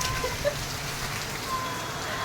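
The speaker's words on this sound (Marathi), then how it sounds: "जशी पावसाला सुरुवात झाली ना तसा एकदम भारी पाऊस आज पडलेला आहे." Heavy monsoon rain pours down in a steady, dense hiss that fills the scene without a break, with a few brief brighter tones and no voices rising above the downpour.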